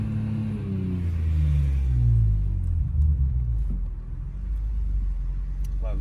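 Modified BMW E46 M3 engine heard from inside the car, a loud low rumble that climbs through the revs, then drops back to a steadier drone with road noise underneath.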